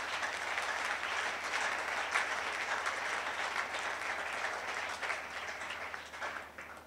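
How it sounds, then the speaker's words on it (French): A church congregation at La Compassion applauds in a sustained, even wash of clapping that carries on steadily throughout, somewhat roomy and moderately distant, with no clear talking over it. "On acclame plus fort."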